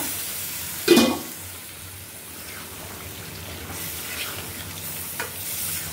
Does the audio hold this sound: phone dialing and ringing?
no